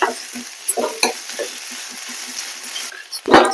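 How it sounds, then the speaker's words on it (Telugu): Pumpkin pieces stir-fry in ghee, sizzling steadily and loudly up close while a utensil scrapes and taps the pan in short strokes, ending in a louder scraping rustle. "మంచిగా కలుపుకుంటా బాగా ఫ్రై అయ్యేదాకా వేయించుకుందాం."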